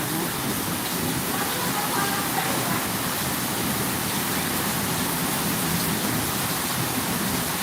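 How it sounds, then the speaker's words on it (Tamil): Heavy rain pours steadily in a village street during a thunderstorm, a loud, dense, unbroken hiss that fills the whole stretch without letting up. "ஒரு மழை பெய்யுது சவுண்டு கேட்டாலும் சரி அவ்வளோ மழை பெய்யுது"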